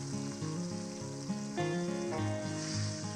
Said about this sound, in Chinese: 番茄酱下锅